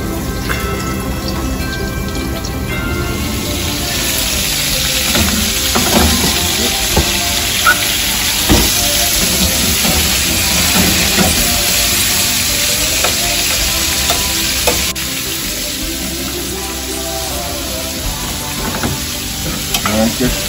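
Garlic shrimp sizzle steadily in a hot pan for a long stretch, a dense crackling fry with occasional scrapes and stirs from a utensil, close and fairly loud with no talking.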